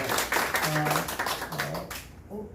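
Church congregation applauding during a Sunday worship service, a dense wash of clapping that fills the whole moment with a voice speaking over it.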